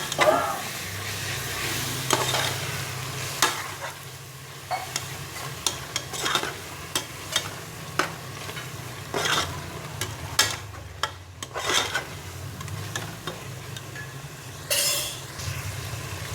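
Coriander and mint leaves are stirred and sautéed in a pan for mutton biryani made in a pressure cooker, with a steady low sizzle under repeated scraping clicks from a stirring spoon, close and moderately loud, and no talk.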